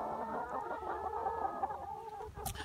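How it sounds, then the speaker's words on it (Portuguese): Austrian hens cluck steadily at close range, a dense overlapping chorus of farmyard chicken calls with no voices. "Essas são as galinhas austríacas."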